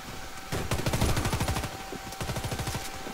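Rapid, sustained automatic gunfire in the online shooter Warface during a competitive match, with dense rattling bursts of shots continuing throughout alongside faint background game noise.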